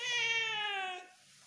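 A cat at a veterinary clinic lets out one long, drawn-out meow close to the microphone, its tone falling slightly before fading into near silence.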